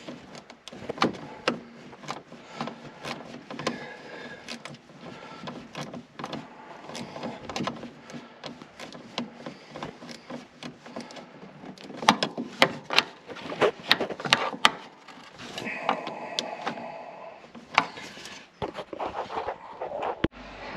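A 3/8 ratchet wrench loosens a bolt while a heater core is being installed in a Buick Centurion, sounding as irregular clicking ratchet bursts and metallic knocks, close up, amid scraping and handling noise, with no talking.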